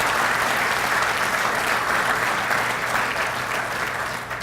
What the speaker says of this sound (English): Let's have a nice round of applause for all of our bronze sponsors.